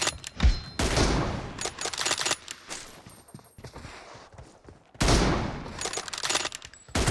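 Loud bursts of rifle and automatic gunfire in a PUBG team deathmatch, two heavy volleys separated by a quieter gap with scattered single shots.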